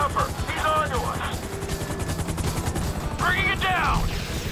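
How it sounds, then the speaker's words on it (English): A helicopter whirs in a GTA V rooftop raid, its steady low rotor drone running throughout beneath dense gunfire and shouted voices. "It might be chopper."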